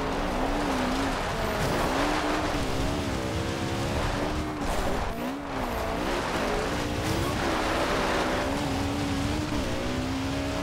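A 1968 Lancia Fulvia Coupé Rallye 1.6 HF with an all-wheel-drive conversion revs hard while driving offroad in Forza Horizon, its engine wavering up and down as it bounces and drifts, with tire squeal mixed into the continuous loud drone.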